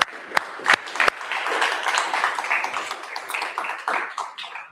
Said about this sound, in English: One more time, round of applause for Ali